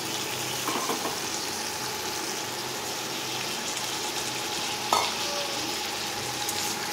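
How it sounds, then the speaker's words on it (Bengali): Chopped potatoes with green chillies fry in a pan, giving a steady soft sizzle with faint stirring and one brief clack, with no voices heard. "আলু একটু ভাজা হতে থাক।"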